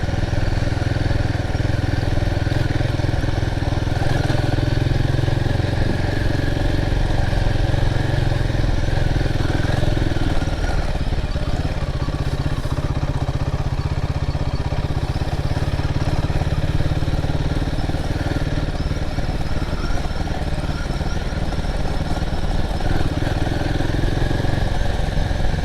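A Royal Enfield Himalayan 450 motorcycle ridden over bumpy ground, its engine droning steadily and loudly with rumble and clatter the whole time, no voices over it.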